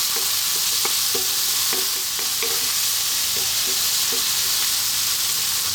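Egg fried rice with frozen garden peas stir-fries in a hot pan, a steady close sizzle broken by repeated scraping and tossing clicks as the mixture is kept moving.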